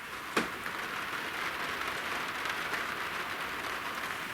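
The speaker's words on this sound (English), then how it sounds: "it is raining" Steady rain patters on a tiny house, a broad even hiss that runs the whole time with one brief sharp tick near the start.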